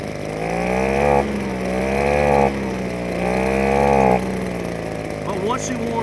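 Proyama handheld gas blower engine running steadily in cold weather, its loud droning tone swelling and dipping in several long throttle surges before easing off, with no talk over it.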